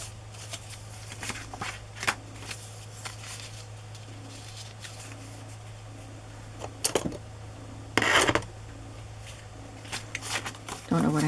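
Metal scissors picked up and set back down on a craft table while decorating small journal pages, a few sharp isolated clacks and rustles spread through quiet room tone with a low steady hum.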